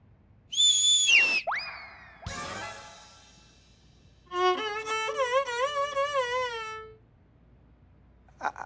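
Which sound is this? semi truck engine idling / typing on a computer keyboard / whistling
whistling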